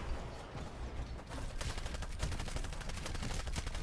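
Gunfire in the video game Titanfall crackles in rapid repeated bursts, a dense automatic rattle that grows busier partway through and continues steadily at moderate level.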